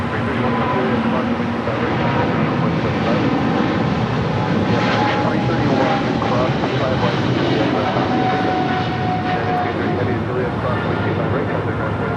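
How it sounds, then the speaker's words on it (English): Jet engine roar of a United Airlines Boeing 787-9 Dreamliner on landing approach at LAX, a steady broad rumble holding across the whole stretch, with faint radio-style voices in the background. "The Dreamliner over there coming in from London, United Airlines Flight 230 and the 787-9 Dreamliner"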